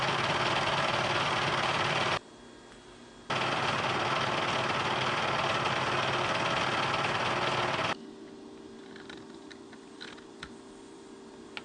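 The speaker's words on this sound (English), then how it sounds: "Since two of these pieces are identical, I can put them both in the vise at the same time and mill them together" A Bridgeport milling machine cuts two identical metal trip dog pieces clamped together in a vise, a loud, dense grinding roar that drops out briefly, resumes, then gives way to a quieter hum with scattered clicks.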